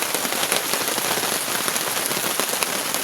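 Steady rain pours down on a hilltop campsite, a dense, even hiss of drops striking surfaces nearby with no pauses, no voices, just continuous close patter throughout.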